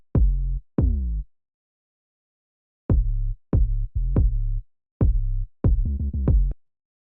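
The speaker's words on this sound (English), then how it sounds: "So the 808 and kick together sound like this." An 808 bass and kick drum play together in a sparse electronic groove, with deep booming hits that come singly and then in quick clusters, separated by silence, clean and upfront.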